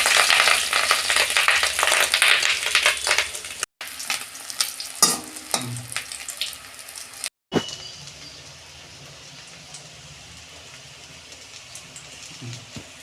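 Fish roe fritters sizzle and spatter in hot oil in a pan, a dense crackling hiss broken by a couple of brief clatters before settling into a softer, steady fry; no one speaks.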